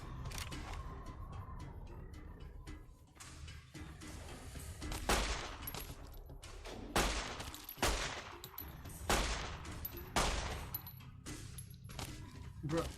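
Enemies fire at the player in a video game, producing scattered gunshots and rapid bursts of fire at moderate loudness across the whole stretch, mixed with mechanical clicks.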